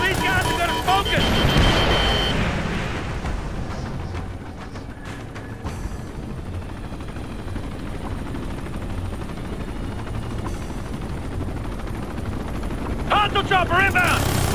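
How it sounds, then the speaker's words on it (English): A hostile helicopter in the video game Ghost Recon Future Soldier gives a loud, continuous rotor rumble and whir over the game's battle mix, with faint gunfire and radio chatter mixed in. "Hostile chopper inbound."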